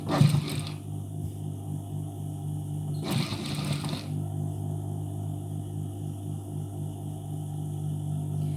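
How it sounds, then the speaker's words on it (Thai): A sewing machine stitches a shirt collar, running in a steady mechanical whir with a low hum, briefly pausing and restarting twice, close and continuous with no voices. "ให้เย็บเข้า ให้เย็บเลยเส้นเข้ามาข้างในนิดนึงนะคะ"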